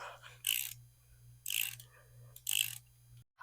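A ratchet wrench works the clamp bolts on a Surron Light Bee X electric motocross bike, giving three short bursts of rapid, close metallic clicking separated by brief pauses.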